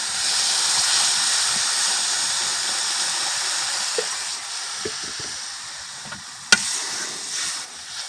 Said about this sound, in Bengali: তো ফ্রেন্ড এর মধ্যে আমি জল দিয়ে দেবো এবার।